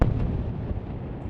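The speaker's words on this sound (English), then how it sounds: "Loud explosions and black smoke hover over Gaza this morning." An explosion over Gaza opens with a deep, rumbling blast, followed by a sustained low roar and crackle that lingers at steady loudness.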